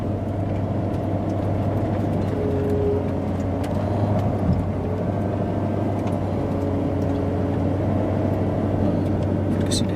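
A 2016 Corvette Z51 3LT in sport mode cruises along, a steady low engine drone up close and inside the cabin with faint clicks and road noise.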